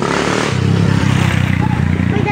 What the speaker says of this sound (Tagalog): Motor trail.